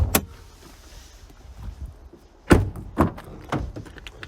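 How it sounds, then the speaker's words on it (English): A 2017 Ford Ranger 2.2 TDCi bonnet release being pulled, giving a few sharp mechanical clunks and pops close by, spaced apart with quiet between them. "Let's just pop the bonnet while we're here"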